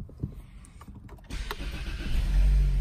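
A 2018 Ford Fusion SE starting by push button: a quiet cabin, a few soft clicks, then the engine cranks and catches at about 1.3 seconds and settles into a steady, close idle hum.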